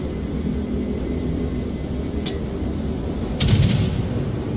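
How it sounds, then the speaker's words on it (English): Aircraft fly over a naval battle in the World of Warships video game, a steady broadband engine roar that holds throughout and swells slightly near the end. "We have planes."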